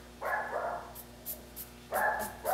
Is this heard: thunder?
no